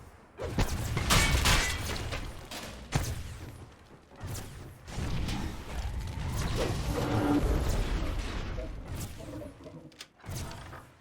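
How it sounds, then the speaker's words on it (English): A lever pulled in the Dungeons & Dragons Online video game, followed by a distant door groaning open: dense mechanical clanks, thuds and a sustained rumbling grind with brief gaps, fairly loud and without talk. "You pull this lever and hear a door groaning open in the distance."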